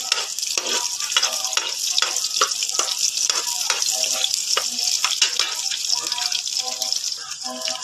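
Meat and tomato frying in a pan with onions, a loud, dense crackling sizzle running throughout, punctuated by repeated scraping strokes of a utensil stirring, close by, with no talking.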